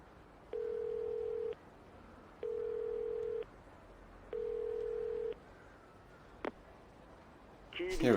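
A telephone in the video game Yakuza 0 rings out three even, long buzzing tones with pauses between them, followed by a short click and then rising noise at the end.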